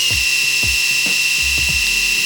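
A Sejoy 5-in-1 electric shaver runs with a continuous high-pitched motor whine, broken by a series of low repeated thumps or rubbing strokes roughly every half second, close and fairly loud.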